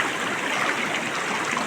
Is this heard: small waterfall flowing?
yes